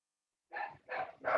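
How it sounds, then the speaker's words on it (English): A dog barks three times in quick succession, close and fairly loud after a brief silence. "that's my dog barking."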